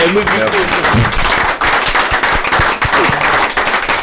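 A theatre audience at a French-language show bursts into loud, close, continuous applause, with some voices and cheers mixed into the clapping.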